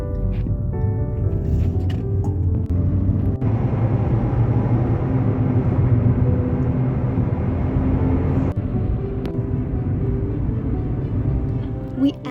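Car driving through a short tunnel on a scenic road in the Troodos Mountains, Cyprus: a steady, close engine and road rumble with a hollow, enclosed roar that swells in the middle and eases toward the end.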